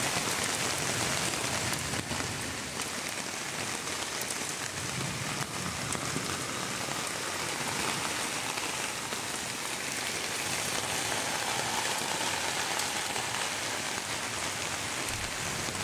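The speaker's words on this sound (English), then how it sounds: "We did have a rainstorm here" Steady rainstorm at a campsite on a European road trip, a constant dense hiss of rain falling on surfaces for the whole stretch, moderately loud with no talking.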